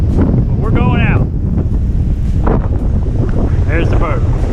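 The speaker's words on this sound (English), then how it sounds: "It is a windy day at Blue Marsh," Strong gusting wind batters the microphone beside Blue Marsh lake, a loud continuous roar with rumbling buffets throughout and brief faint whistling tones.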